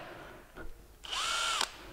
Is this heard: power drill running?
yes